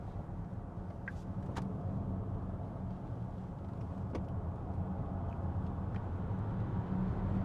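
Zeekr electric car taking a corner in sport mode with lowered suspension, a steady low road and tyre rumble heard from inside the cabin, with a few faint clicks and no voices.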